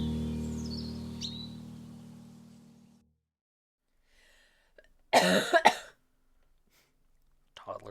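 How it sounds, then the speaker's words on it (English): A short burst of coughing from one person, loud and close, arriving after a stretch of near silence that opens with a fading low hum. "Cough."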